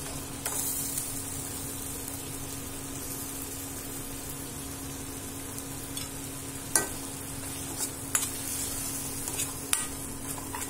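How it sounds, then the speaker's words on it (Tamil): Coconut is stirred into tomato chaalna in a pan, a faint continuous sizzle under a low hum, with a few scattered scraping clicks of the spoon toward the end. "தேங்காவை போட்டு நல்லா அப்படியே கிண்டி விட்டணும்."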